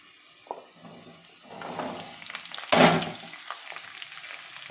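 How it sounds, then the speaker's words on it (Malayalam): Green chillies and onion hitting hot oil for a spicy fish curry, a soft sizzle swelling into a brief louder crackle as they land, then settling into quiet frying with light stirring and no speech. "ഓക്കെ, ഇനി പച്ചമുളകും ഉള്ളി."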